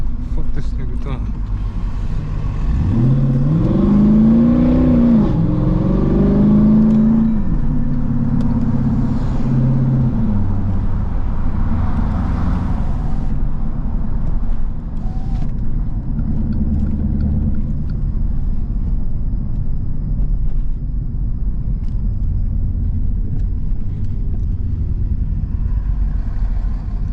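A Jeep SRT8 engine revs hard while driving through trenches, its deep rumble rising and falling in a couple of strong pulls early on before settling into a steady, loud, close drone.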